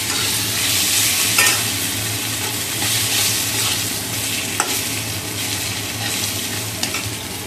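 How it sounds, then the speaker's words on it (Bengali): A fish head frying in hot oil in a pan, a loud, continuous sizzle with occasional stirring clicks and light scrapes, close and steady throughout. "এবার মাছের মাথাটা ভেজে নেব"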